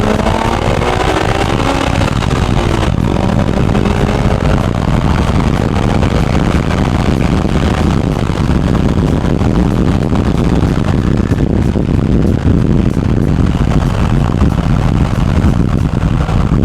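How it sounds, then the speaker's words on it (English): Turbocharged Nissan 370Z accelerating hard in manual mode with paddle shifts, a loud continuous engine roar and rush heavily blended with buffeting wind noise, the pitch shifting as gears change. "Here, I'll do a pull for you guys. So right now it's in manual mode and I'm using the paddle shifters."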